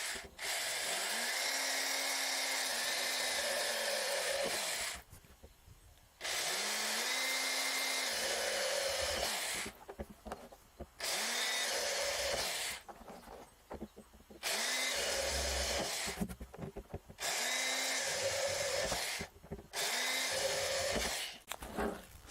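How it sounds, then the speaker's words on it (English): An old power drill bores drainage holes for a vertical strawberry tower planter in a garden, running in several loud sustained bursts of a few seconds each, separated by brief pauses. "this is just quite an old drill"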